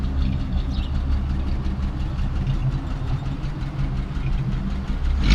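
A 1941 Lincoln Continental V12 engine idles steadily nearby, a low, even rumble with a slight knocking texture and no voices.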